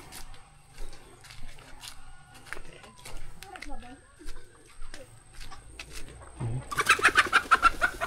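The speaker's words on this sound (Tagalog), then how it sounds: "Loko itong mga chicken natin." Chickens outdoors cluck and coo steadily, joined near the end by a burst of loud wing flapping, with a person talking over them.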